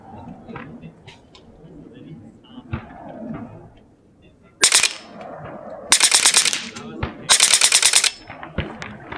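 Loud full-auto bursts from an LCS Air Arms SK-19 .22 PCP airgun on an extreme bench, three rapid rattling volleys of about a second each, following quieter scattered shots, clicks and handling noise with some talk.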